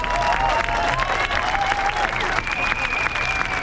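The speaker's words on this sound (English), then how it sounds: "So I want you to give yourself a huge round of applause for being here" A rally crowd in Geneva applauds loudly and steadily, dense clapping filling the whole stretch with a few shouts and cheers rising through it, close and sustained.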